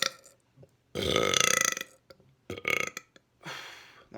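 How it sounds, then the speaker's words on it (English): A person lets out a series of loud, close burps: a long rumbling belch, then shorter bursts with brief pauses between them. "But here comes another burp."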